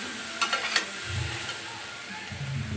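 Potatoes and chow mein frying in a pan, a low, steady sizzle with a few sharp clinks of a utensil against the pan early on and soft stirring scrapes afterward.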